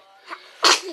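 A single sharp sneeze bursts out, close and loud, preceded by a quick intake of breath.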